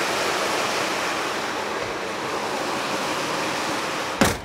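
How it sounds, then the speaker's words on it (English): Heavy rain pours outside an RV, a 2021 Jayco Jay Feather X19H travel trailer, as a steady, dense roar of broadband hiss, with a brief sharp knock near the end. "We're getting a big rainstorm right now."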